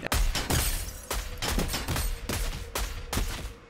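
Mythic Burst rifle firing in Fortnite, rapid bursts of loud gunshots repeating in a steady rhythm, close and dominant with no talking.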